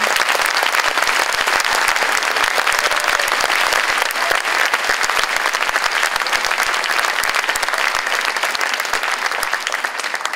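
Audience applauding the two musicians who play the instrument at an Orchestre à l'école event, a dense, steady wash of many hands clapping that stays loud and even from start to finish.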